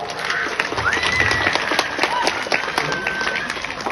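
A gathered crowd at a local civic meeting breaks into scattered, continuous hand clapping, fairly close and dense with sharp claps throughout, mixed with background murmur and a faint whistle-like tone.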